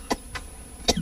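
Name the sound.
cough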